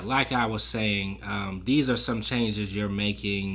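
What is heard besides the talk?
None of the usual background noises is heard.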